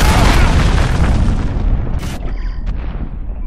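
Heavy booming cruise missile explosions rumble loudly in a Call of Duty Modern Warfare multiplayer match, a sustained roar of blasts with a brief sharp burst partway through.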